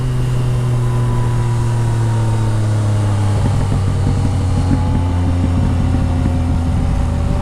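A 2014 Yamaha MT09 with a full Akrapovic exhaust accelerates hard in third gear while the rider tries to lift the front wheel: a loud, steady engine drone turns into a rougher, pulsing roar partway through, with constant wind rush.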